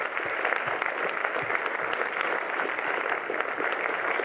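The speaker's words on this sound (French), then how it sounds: "Je demande vraiment un tonnerre d'applaudissements pour ces équipes." An audience at the 2013 FIFPL festival opening gala in Liège gives the festival teams a round of applause: dense, even clapping that holds steady throughout.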